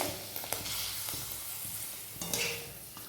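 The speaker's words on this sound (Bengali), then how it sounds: "কড়াতে তেল দিয়ে দিয়েছি দেখুন ভাতের মায়ের পাপড়গুলো দেখে দেখিনি কত সুন্দর ফুলছে" Papads made with rice starch water fry in hot oil in a wok, giving a steady soft sizzle with occasional stirring clicks and scrapes, fairly quiet and with no talking.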